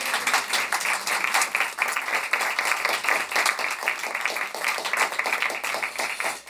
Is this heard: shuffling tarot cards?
no